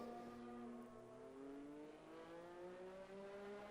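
Car engine in a racing video game stuck in a revving glitch, a droning, slowly rising engine whine held steady throughout, faint and without talk.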